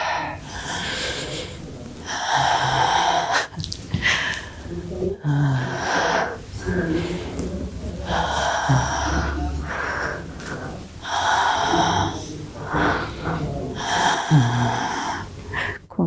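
Deep, slow breathing during a guided relaxation exercise in a women's pelvic-awareness dance session. Long, close, audible inhales and exhales follow one another in a steady rhythm with brief pauses, and no one talks.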